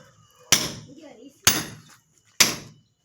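Three sharp, loud hammer blows drive a chisel into an HFC concrete block, evenly spaced about a second apart, each a hard metallic strike with a short ringing decay, with nothing else heard between them.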